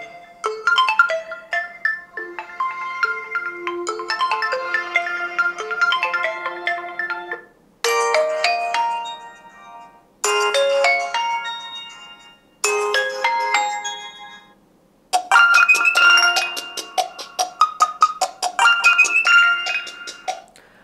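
Ringtone melodies play through the single speaker of an Oppo A5 2025 phone, bright chiming electronic notes in several separate bursts with brief silent gaps, clear and close with no talk.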